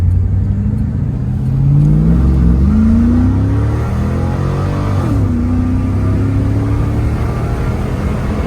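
A 2002 Chevrolet Camaro Z/28 accelerates hard, its engine climbing in pitch through the gears with a clear shift partway through, loud and close with a deep rumbling exhaust and no talking.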